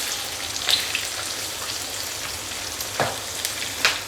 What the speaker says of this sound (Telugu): చూసారా చికెన్ ఎలా ఫ్రై అవుతుందో